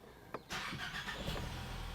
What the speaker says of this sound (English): Fire up the engine.